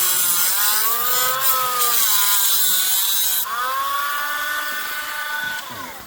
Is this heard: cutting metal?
yes